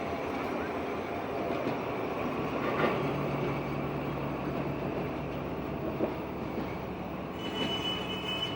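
A first-generation Chinese diesel locomotive train rumbles past steadily, a loud continuous roar of engine and wheels with faint squealing tones, no voices.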